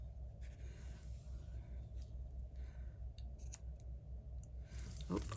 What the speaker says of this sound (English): we're gonna have to give those tails a little trim because they're kind of long